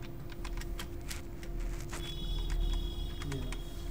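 Quiet, rapid keystrokes on a computer keyboard while typing text into a PowerPoint slide, with irregular bursts of clicks over a faint steady electrical hum and no talking.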